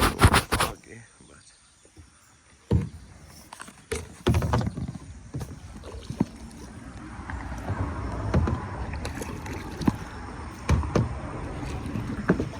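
A canoe is paddled across a lake near Madison, Wisconsin, with uneven splashing paddle strokes and water sloshing against the hull. Occasional knocks and handling noise come close to the microphone.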